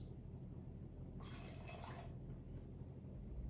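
Water pours into a homemade mixture of Everclear for about a second, a soft splashing rush over quiet low background hum.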